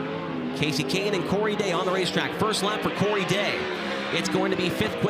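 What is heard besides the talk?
race car running its first lap at Kings Speedway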